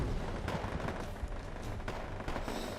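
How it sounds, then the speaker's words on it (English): Artillery fire in the real-time strategy game Wargame: AirLand Battle makes a dense, continuous barrage of booms and cracking shots, steady and loud throughout, with no gaps of quiet. "Artillery coming in."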